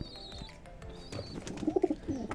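Caged pigeons, a breeding pair, give a few soft, low, rolling coos close by near the end, over a faint background murmur.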